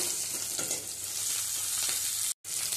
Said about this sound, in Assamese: পিয়াজটো ভাজি লৈছে